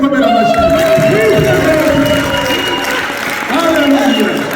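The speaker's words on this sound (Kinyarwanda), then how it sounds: "imufashe tuyikomera amashyi." A church congregation applauds at a Saturday service in Louisville. The steady clapping runs throughout beneath a preacher's loud, close voice.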